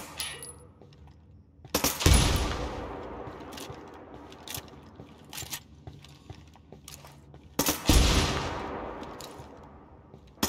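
Submachine gun fire in Ghost Recon Wildlands: two loud bursts of rapid shots a few seconds apart, with scattered fainter distant shots in between.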